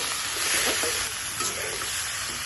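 Spice paste of turmeric, cumin, coriander, chili and ginger frying with tomato in a pan, giving a steady, close sizzle with faint stirring underneath.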